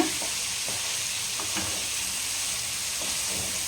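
Butter tikka masala stirred in a pan with a steady sizzle, scattered scraping strokes of a spoon across the pan, close and fairly loud with no talking.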